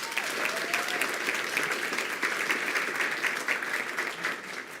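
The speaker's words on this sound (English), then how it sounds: "Round of applause for Ms. Pedraza." Applause at a Weslaco school board meeting for an elementary art teacher: a crowd claps steadily and continuously at moderate volume, a full even patter that tapers slightly at the end, with no one speaking.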